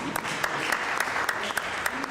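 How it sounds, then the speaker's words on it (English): Convention crowd applauding at a district civil-rights organization gathering, steady dense clapping with a few sharper individual claps standing out, moderately loud. "let's give them an applause"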